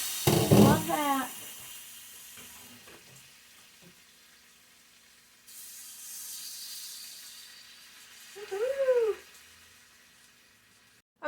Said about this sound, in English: I'm just going to dump in all my shrimp. Ooh, hear that sizzle